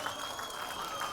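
Soft, steady audience applause ahead of a classical dance performance at a college annual day function, a faint, even wash of clapping from a crowd with no standout claps.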